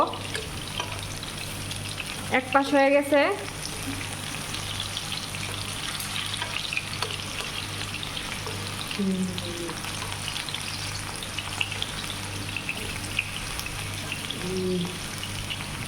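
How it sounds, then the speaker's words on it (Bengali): Potatoes frying in oil, a steady close sizzle running throughout, with a short burst of speech near the start and a few brief utensil taps and scrapes later on. "প্রথমে আলুগুলা ভাইজা নিতাছি"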